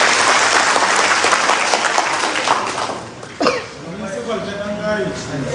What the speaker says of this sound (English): Please, another round of applause for us.